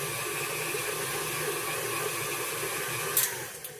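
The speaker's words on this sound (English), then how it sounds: "He got me this KitchenAid mixer, and I use it for everything" A KitchenAid stand mixer kneads a vegan, oil-free, dairy-free, gluten-free and soy-free dough with a steady, close motor hum and hiss, ending with a couple of brief clicks.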